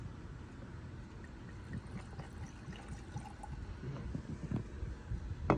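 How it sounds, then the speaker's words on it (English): Barrilito rum poured from a bottle into glasses, a soft liquid trickle and splash that grows a little louder toward the end, with faint background noise. "Here it is, Barrilito. Let's do a little bit of pouring here."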